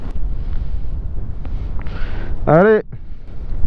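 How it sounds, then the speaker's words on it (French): Strong wind buffets the microphone while riding a scooter or motorcycle, a steady low roar of gusts throughout, with someone speaking briefly over it. "il y a un vent d'un seul coup là"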